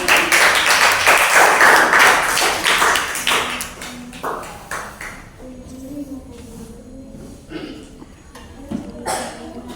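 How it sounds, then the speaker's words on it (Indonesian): A university audience in Makassar clapping hands after a group presentation: a dense burst of clapping for the first few seconds that fades out, followed by quieter room sound and a few scattered taps and voices. "Tepuk tangannya."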